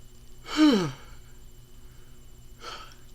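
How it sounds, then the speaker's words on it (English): A single drawn-out yawn with a falling, voiced sigh, followed a moment later by a softer breathy exhale in a quiet room. "I'm yawning now that I'm doing the video"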